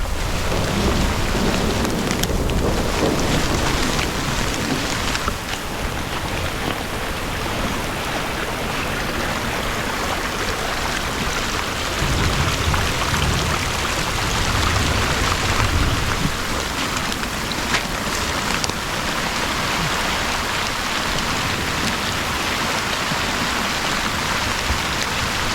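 Heavy rain pours down continuously around an abandoned house as a thunderstorm approaches, a loud, dense roar of water with low rumbles of thunder and rushing runoff beneath it and no voices.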